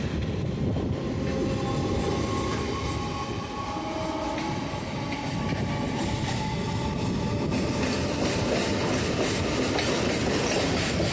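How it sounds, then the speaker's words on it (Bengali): Two local trains pull out together near Majerhat, their continuous heavy rumble and rhythmic clickety-clack of wheels over rail joints rolling on steadily and fairly close, with no talking. "তো দুটি ট্রেন একসাথে বেরোচ্ছে।"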